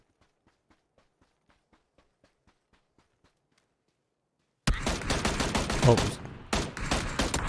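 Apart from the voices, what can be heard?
gunfire in PUBG: Battlegrounds video game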